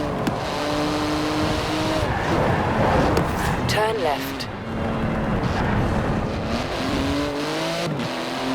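A 700-horsepower 3.8-litre flat-six twin-turbo car in Forza Horizon 4 revs and roars steadily up close, with rising gear pulls and a brief tyre squeal, under a navigation voice and someone speaking.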